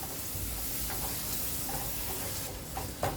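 Turmeric and chilli roasting in a pan for a Kokani dry fish thali: a constant hissing sizzle fills the clip, with a few light stirring clinks near the end, close and moderately quiet.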